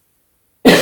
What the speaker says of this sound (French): et là, je vais tousser